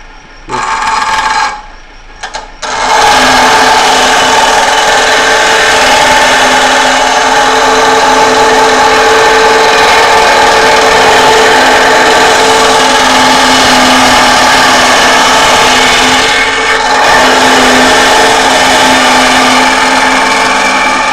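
A grinder cuts into a metal Batarang, a loud, steady, close high-pitched grinding whine running continuously after a brief start, with a short dip partway through.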